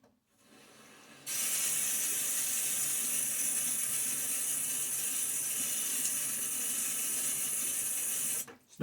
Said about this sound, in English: Nice cool water I'm using today